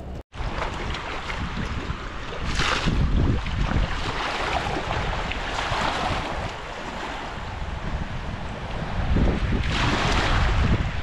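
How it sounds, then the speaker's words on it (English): Ocean waves washing onto a sandy beach while someone shovels and sifts sand, a steady broad roar of surf with louder surges of breaking water near the start and end. "As long as there's waves, there's not too many today."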